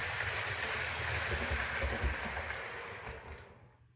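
A model train runs steadily along its track with a close, continuous rolling rumble and rattle that fades away toward the end.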